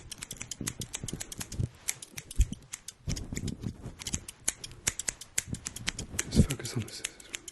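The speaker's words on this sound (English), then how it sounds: "Just focus on the scissors." Metal scissors snip repeatedly right beside the ear in an ASMR session, crisp close clicks and slices arriving in uneven bursts, with a soft whispered voice present at times.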